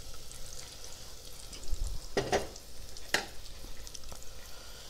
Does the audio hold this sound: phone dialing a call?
no